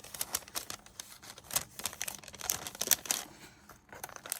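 Crinkly paper inside a handmade folio rustles and crackles under handling, close and fairly soft, with quick irregular crisp crunches and no voices.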